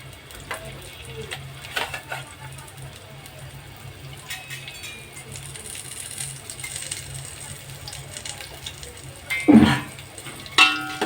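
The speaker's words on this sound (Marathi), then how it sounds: "त्यामध्ये कांदा आणि कढीपत्ता घालूया." Onion and curry leaves fry in a pan for spicy pav bhaji, giving a faint, steady sizzle with a few soft clinks and a louder stir near the end.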